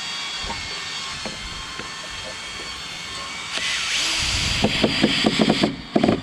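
A power driver sets a screw into wooden gable formwork, first with faint ambient noise, then a loud close whirring run in the second half with rhythmic bursts as the screw bites into the wood.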